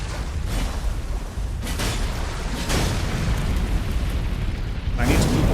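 Explosions in the video game Elden Ring: Shadow of the Erdtree boom several times against a rumbling battle backdrop, with someone talking over the blasts.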